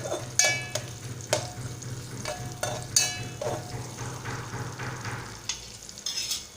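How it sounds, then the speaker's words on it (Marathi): Onion and garlic fry in hot oil with a pinch of asafoetida, a constant sizzle broken by repeated sharp scraping and clanking strokes of stirring, close and fairly loud. "तेलात दोन मिनटं भाजू देऊया तर आपला कांदा आणि लसूण छान भाजले गेले आहे तेलात"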